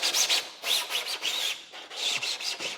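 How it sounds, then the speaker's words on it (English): Sandpaper rasps back and forth over a 3D-printed wing root reinforcement part in quick, bright scrubbing strokes, close and steady, roughly six passes with short pauses between them. "just give it a quick sand to roughen it up"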